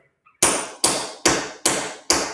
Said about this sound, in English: What you're hearing is steel on steel.